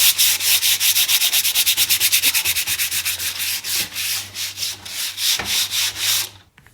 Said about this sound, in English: This is like 400 grit dry wet sandpaper.